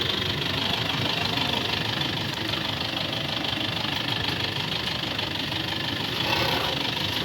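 A running Toyota Innova gives off an abnormal engine noise, a steady close mechanical rumble with fine knocking vibration throughout, no talking.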